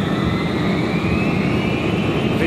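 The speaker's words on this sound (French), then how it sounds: "Lentement, l'avion prend de la vitesse et tout paraît normal." Airliner jet engines roar steadily at high power as the plane accelerates down the runway for takeoff, loud and close with a faint rising whine, no talk.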